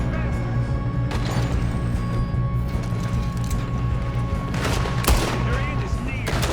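Gunfire crackles in the Red Dead Redemption 2 train robbery mission, repeated sharp shots over a steady game soundscape, with a louder burst near the end.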